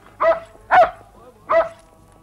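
Three loud, close dog barks ring out in a steady series, each sharp and separated by short pauses, from a sled dog near its team.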